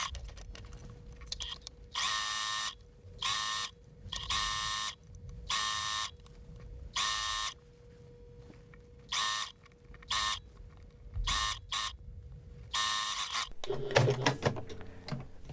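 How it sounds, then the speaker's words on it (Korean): A sewing machine stitches the side seam of a slip dress in repeated bursts of fast, close mechanical whirring, separated by short pauses, ending with fabric handling noises. "옆을 맞추고 위에서 아래까지 쭉 박음질로 연결해 주시면 되겠습니다"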